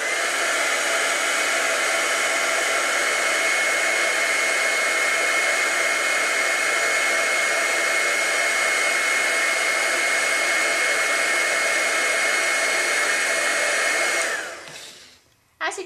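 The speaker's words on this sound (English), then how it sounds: "We now need to melt this with the embossing heat tool." Embossing heat tool melting embossing powder on a Christmas card, a steady loud blowing roar that runs unbroken for about fourteen seconds before switching off abruptly.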